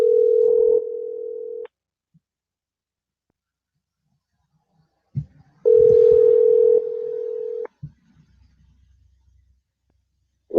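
A telephone dial tone sounds twice while a call is placed back, each a steady tone of about a second and a half to two seconds separated by silence, with small clicks and faint handling noise between.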